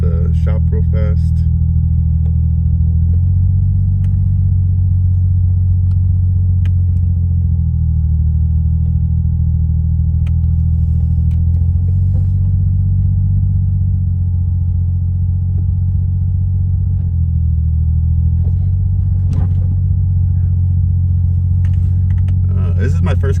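A manual Toyota Supra idles and pulls slowly out of a shop, its low engine rumble steady and close throughout, with a few faint clicks and knocks over the top and no speech.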